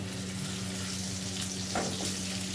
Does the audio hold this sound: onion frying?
yes